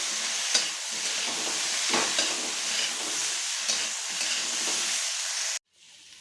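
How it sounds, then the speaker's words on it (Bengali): A spoon stirs ginger paste through shukto frying in a pan, with steady sizzling and repeated scraping strokes over about five seconds before the sound cuts off abruptly. "আর 1 চামচ আদা বাটা দিয়ে দিলাম, দিয়ে এটাকে নাড়াতে থাকবো।"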